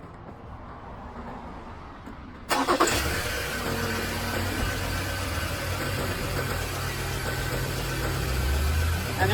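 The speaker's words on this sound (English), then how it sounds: "go start your vehicle" A Mazda BT50 engine cranks and starts with a sudden loud burst, then settles into a steady, close idle that continues to the end.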